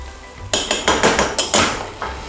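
Garlic grated directly into a pot of plant-based soup: a quick run of about seven crisp, rasping strokes in a steady rhythm, close and loud, with no voices.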